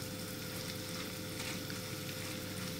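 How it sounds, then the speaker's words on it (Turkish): Rice being toasted and stirred in a hot pan for karnıyarık, a steady close sizzle and crackle with soft stirring, no talk. "Az pirinci ben kavuruyorum."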